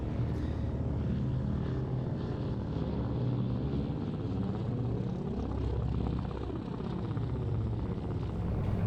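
Vintage Junkers Ju 52 trimotor airliner, built 1936 in Dessau, at the Duxford air show: a loud, steady piston-propeller drone with shifting beating tones as the aircraft passes close by, with no speech.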